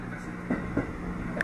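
A Ryomo Line train pulls out of Ashikaga Station, heard from inside as a low, steady rumble with a couple of soft rhythmic thumps from the wheels and a faint tone near the end.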